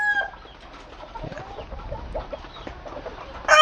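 Loose backyard chickens — pullets, hens and young birds — cluck and call around a farmyard at moderate distance, a steady scatter of short calls with a louder burst at the end.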